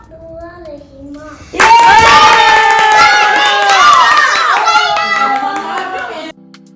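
A small group of women claps and cheers after a children's program at a ladies' movie night, the sudden burst of clapping mixed with excited children's voices and chatter, with quieter talk before it begins.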